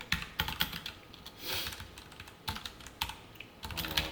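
Close computer keyboard typing while writing SCSS code, with quick irregular key clicks in short bursts and brief pauses, steady and moderately loud with no talking.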